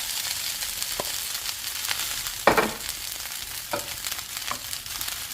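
Vegetable fried rice with scrambled egg is stir-fried in a hot pan, giving a continuous crackling sizzle and several sharp scraping clacks of the spatula.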